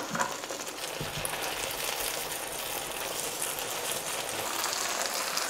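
Macaroni and cheese fries in a pan with a dense, continuous crackling sizzle, close and steady throughout, with no talking.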